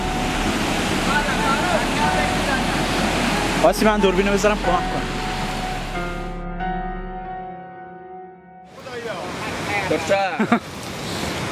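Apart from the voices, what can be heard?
floodwater rushing through farmland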